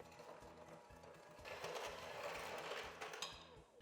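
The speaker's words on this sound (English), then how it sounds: "We'll use an electric mixer to beat together the sugar and the butter until it is well" An electric mixer beats sugar and butter together for icebox cookie dough, a steady low mechanical whir with a rhythmic pulsing motor hum that swells slightly in the middle, quiet and continuous with no talking.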